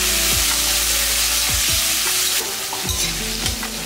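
Tomato and tamarind sizzle steadily in a hot pan for a chutney, with a ladle scraping and stirring at intervals through the continuous frying hiss.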